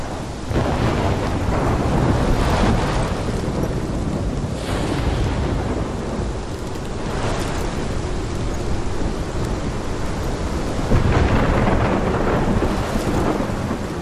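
A heavy thunderstorm in the video game Life Is Strange, with dense, loud rain and rolling thunder that rumbles continuously over windy ambience, and no voices.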